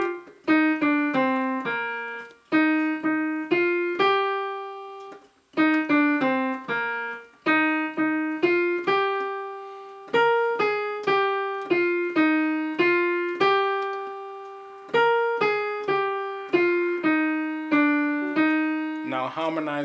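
Solo piano playing a Ghanaian praise melody, a single-line tune of crisp, evenly struck notes in short repeating phrases with brief pauses between, close and clear with no voices.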